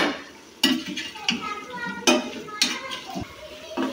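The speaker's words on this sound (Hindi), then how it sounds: "अब गोभी इसमें शामिल की हमने, इसे भी 1 मिनट तक अच्छी तरह भूनेंगे" Metal spoon clanks and scrapes against a pan while cauliflower, carrots and peas are stir-fried for mixed vegetables, several sharp knocks spaced irregularly over a quiet, faint background.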